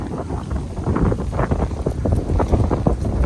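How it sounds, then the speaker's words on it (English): Strong wind buffets the microphone outdoors at a house being washed, in a rough, continuous low rumble with gusty surges, loud and close. "can see how windy it's getting."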